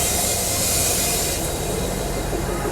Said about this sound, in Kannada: ಬಳ್ಳಾರಿ ಟು ದಾವಣಗೆರೆಗೆ ಹೋಗೋ ಟ್ರೈನ್ ನಿಂತಿದೆ ಆಲ್ರೆಡಿ ಹೊಸಪೇಟೆ ಸ್ಟೇಷನಲ್ಲಿ ಜಂಕ್ಷನಲ್ಲಿ